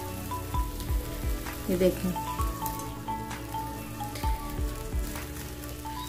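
Adana kebabs fry in a pan with a steady soft sizzle and occasional crackles and clinks, a voice speaking briefly over them.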